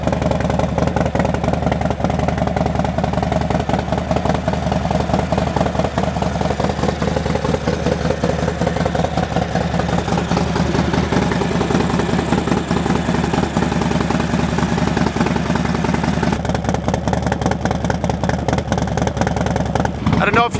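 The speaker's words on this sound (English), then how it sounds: "Sport Glide giveaway bike. It's got a 475 cam in it, Vance & Hines Pro Pipe. The thing rips" A Harley-Davidson Sport Glide with a Stage 2 475 cam and Vance & Hines Pro Pipe runs loud and steady nearby, its deep, throbbing exhaust rumble continuous throughout with people talking over it.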